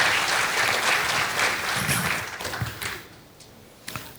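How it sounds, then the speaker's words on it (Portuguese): Audience applause in a hall during a religious gathering, a full burst of many clapping hands that fades out over a few seconds, leaving a couple of late isolated claps. "a quem eu peço uma salva de palmas"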